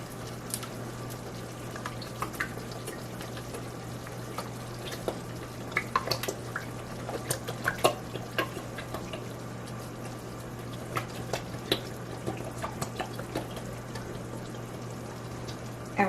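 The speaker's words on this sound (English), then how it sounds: "so now I'm gonna come and add my tomato sauce" A whole can of tomato sauce is tipped into a cooking pot of soup with ham, giving a soft, steady liquid pour with scattered drips and small splashes over a constant low hum, no talking.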